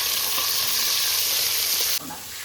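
Onions fry in a pan with a loud, steady sizzle that continues unbroken, then drops in level partway through but keeps crackling; no one speaks.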